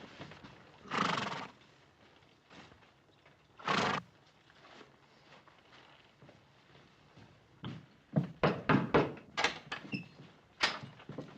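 Horses of a cavalry detail arriving and halting with hooves clip-clopping nearby, a few loud whinnies early on, then a cluster of sharp hoof and tack knocks toward the end.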